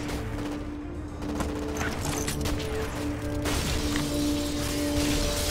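Gunfire exchange in the shooter game Black, a dense stretch of rapid shots, clattering mechanical clicks and shattering debris that runs continuously, loud and busy throughout.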